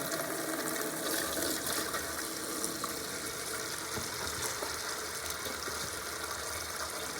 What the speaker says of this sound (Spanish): Aseguramos que el agua sale bien caliente.